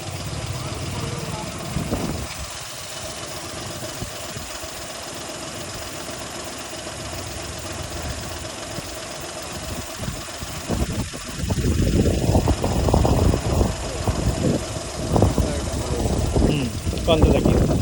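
A Suzuki 800 car with 65,000 km on it idles during a carbon-cleaning fuel injection, a low, knocking engine rumble that stays quiet at first and then grows noticeably louder and rougher toward the end, with voices at times.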